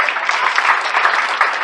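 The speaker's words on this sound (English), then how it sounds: "Round of applause that you just learned something new." A cruise audience at a low-carb event claps in a brief, dense burst of applause, steady and fairly loud for under two seconds.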